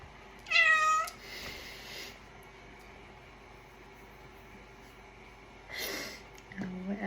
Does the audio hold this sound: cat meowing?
yes